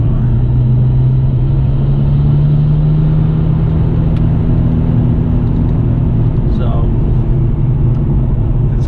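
A Nissan Skyline R32 GTR drives on a cold early-spring road in Norway, its engine a steady loud rumble with a low droning tone heard from inside the cabin, holding even throughout.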